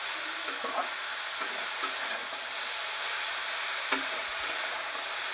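Cauliflower stalks being stirred with turmeric and salt in a frying pan, a steady close sizzle and hiss with a few soft scraping clicks of the spatula scattered through, no voices.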